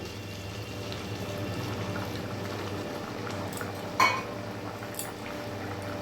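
Hot water is added to a hot pan on a gas flame and starts to boil, a low, steady bubbling close by with one brief clatter of a utensil partway through.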